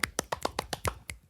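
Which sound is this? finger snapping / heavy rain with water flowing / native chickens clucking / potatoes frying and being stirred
finger snapping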